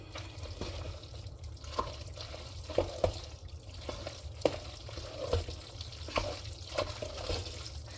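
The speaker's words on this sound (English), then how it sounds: "Listen to the sound of that creaminess as you stir." Ground beef cooked in a microwave being stirred through a creamy mixture in a pot, giving soft wet squelching strokes and small scrapes at an irregular pace, close and moderately quiet, with no talking.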